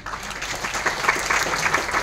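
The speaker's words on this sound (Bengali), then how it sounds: "ওদের জন্য আরেকটা হাততালি নিই আমরা" An outdoor event crowd applauds steadily for a couple of seconds, a dense, even wash of clapping with no voices over it.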